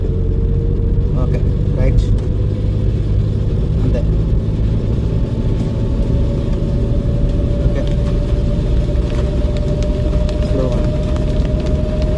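A car engine humming steadily and rising slowly in pitch as it speeds up in third gear during a driving lesson in heavy rain, with rain noise around it and an instructor talking over it.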